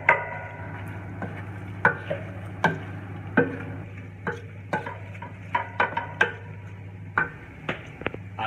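Shrimp with white onion stirred in a pan for salt and pepper shrimp: a utensil clinks and taps against the pan in an irregular run of sharp knocks, quiet and close, over a steady low hum with no talk.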